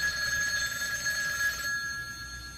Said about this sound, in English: Master Stuntman Jack Edison picks up a ringing phone.